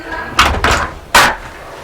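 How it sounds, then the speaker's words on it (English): A door is pushed shut in a room, making three broadband knocks and thuds, two close together and then a sharper, louder slam, with no talk over them. "Will you close the door?"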